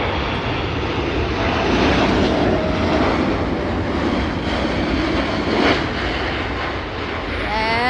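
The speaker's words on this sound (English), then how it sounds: "Airbus A380." Airbus A380 jet engines during an arrival, a loud sustained broadband roar that holds steady for several seconds with a slight swell, heard alone without talking.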